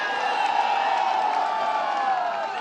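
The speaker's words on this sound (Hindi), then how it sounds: "आप लोग इतनी तेज ताली बजाइए" Audience at an Akhilesh Yadav election rally in Chauri Chaura, Gorakhpur, clapping and cheering in a dense, continuous roar of applause and shouts, loud and unbroken.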